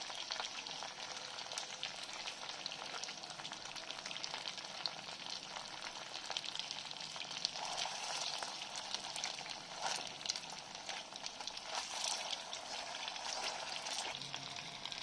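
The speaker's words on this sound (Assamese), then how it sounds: "এতিয়া এটা এটা বল মই ইয়াত তেলত দি দিম" Quiet, continuous bubbling sizzle of potato cheese balls deep-frying in oil, an even crackle with occasional louder pops and no talking.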